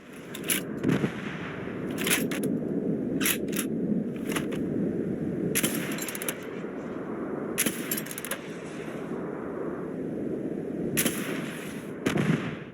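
Repeated loud explosive gunshots from the Coachman gun in the video game Starfield go off in bursts every second or two over a constant rumbling, crackling background, with no talking.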